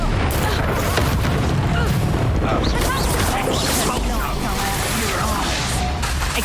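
Booming fiery spell explosions from the Confringo spell in Hogwarts Legacy, a dense, continuous barrage of loud blasts and crashes with voices speaking over the combat.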